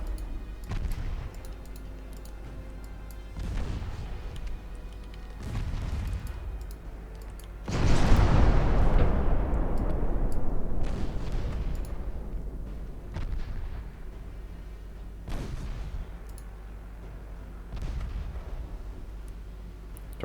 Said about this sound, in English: Torpedo detonation.